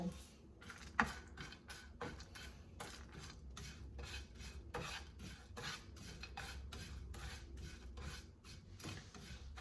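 Flattened rice (chira) stirred in a pan for chirar polao, giving a steady run of dry, rasping scrapes and gritty rubs close by, with no talking.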